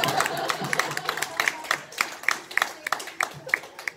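An audience at a lecture Q&A claps for several seconds, a dense run of sharp hand claps that thins toward the end, fairly close and loud, with some voices mixed in.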